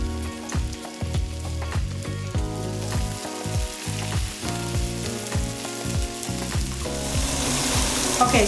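Kefta kebabs, Persian and Turkish style, searing golden in an oiled pan: a steady, close sizzle runs throughout with no voices.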